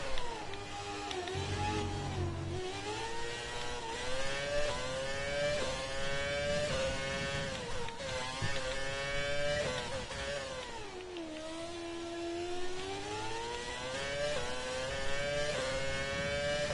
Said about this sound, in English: Pretty different engine sound, if you can hear it properly, from our current cars.